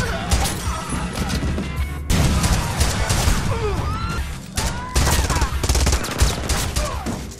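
Rapid bursts of gunfire crack back and forth amid crashes and impacts in an action film shootout, loud and chaotic, with brief pauses between volleys.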